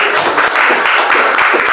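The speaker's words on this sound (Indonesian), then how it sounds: "Tepuk tangan dulu." A congregation at a Christmas worship service in Jakarta claps in a loud, dense burst of applause close by.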